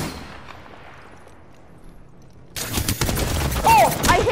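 Gunfire in the video game Apex Legends: a faint fading rumble gives way to a loud, dense burst of close shots in the final two seconds, mixed with clattering mechanical sounds.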